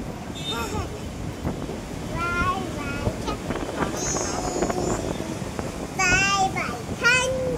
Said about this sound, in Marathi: पण अचानक हवा सुरू झालं.